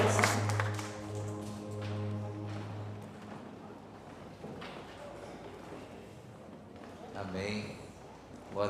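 A church congregation breaks into a sustained burst of dense, steady hand clapping at moderate volume, following a sung or spoken voice and fading as the voice resumes near the end.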